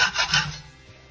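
A chunk of tool scrapes dried mortar off a shower wall, two quick gritty rasping strokes close by, then quiet.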